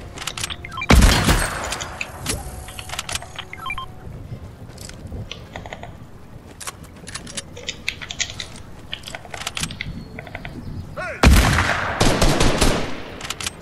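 Bursts of video game gunfire, two loud sharp volleys near the start and end with scattered lighter clicks and taps between, no talking.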